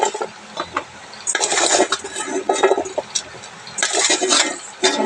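A pressure cooker on the stove with dal inside lets off loud bursts of hissing steam, one around the two-second mark and another near the end, between quieter kitchen clatter.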